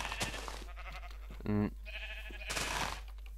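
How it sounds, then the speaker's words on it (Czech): A sheep in the video game Minecraft gives one short, clear, wavering bleat in the middle, surrounded by quiet game clicks and background sounds. "A teďka bomba, co vlítnem ještě na tuto ovečku."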